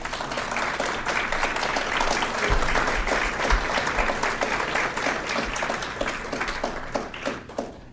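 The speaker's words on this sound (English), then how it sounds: "If we could have a round of applause for all of them." Audience at a candidates night forum applauds all the candidates, a steady, full round of clapping lasting throughout with occasional louder claps near the front.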